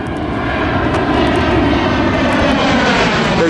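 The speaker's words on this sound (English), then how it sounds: "There goes another plane" A steady airplane engine drone from a plane flying overhead outdoors in Orlando, Florida, loud and continuous, with a broad rumbling roar that holds level throughout.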